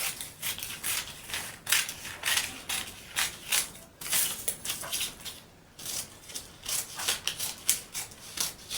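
Scissors snip through paper while cutting out a sleeveless corset top pattern, a steady run of close, crisp mechanical cuts with brief pauses, no voices.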